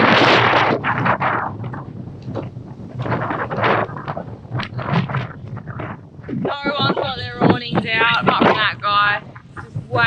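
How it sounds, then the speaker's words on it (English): Strong gusts buffet the microphone on a beach at Carnarvon on the Ningaloo Coast ahead of an incoming storm, roaring loudly in uneven surges while people talk and exclaim over it. "Oh my god, it's so windy."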